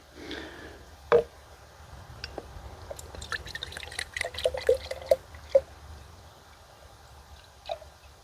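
Liquid poured from a bottle into a lid comes through as faint trickling and scattered drips, a few sharper splashes punctuating the quiet, close pour.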